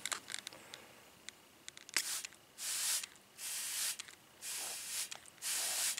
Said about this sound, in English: I just have water in this spray bottle here